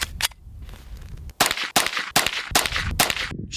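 Unsuppressed .22 rifle fired at a 25-yard range, a run of sharp, loud shots with short pauses between them, several cracks audible close to the microphone.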